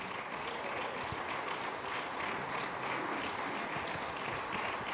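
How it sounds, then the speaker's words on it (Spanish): A church audience claps in a sustained, dense round of applause, steady and fairly soft in level throughout, with no talking over it. "Dale un aplauso al Señor."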